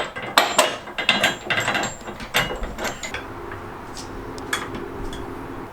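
A ratchet tightens a bed stiffener bolt on a Tacoma pickup, making quick bursts of clicking and rattling up close. A softer, sparser stretch of faint mechanical taps follows.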